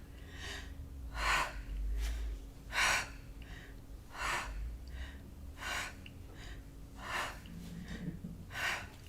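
Repeated forceful breaths out through the mouth paired with inhales during a yoga twist, about seven sharp airy bursts at a steady rhythm, close and without talking.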